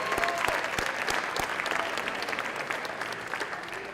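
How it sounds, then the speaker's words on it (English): Audience at a Lancer athletics sports banquet claps steadily for the athletics director, a dense, fairly close burst of hands with a few sharp individual claps, holding at an even level throughout. "Give him a round of applause."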